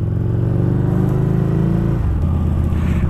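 A Harley-Davidson Street Rod 750 motorcycle engine rumbles loud and close with a deep, pulsing throb, then the pitch shifts as it revs partway through, with no voices.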